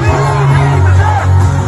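A large Duterte rally crowd shouts and yells together, a loud continuous roar of voices with rising chant-like swells and no pauses.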